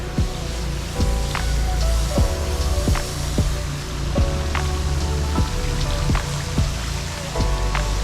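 A pressure washer rinses the blackened outside of a screened pool cage, giving a steady, close, rain-like hiss of spray with scattered sharp ticks and taps throughout, and no talking.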